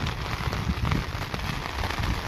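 Heavy rain falls all around outside, a dense, steady roar of drops hitting surfaces that stays loud and unbroken throughout, with no voices.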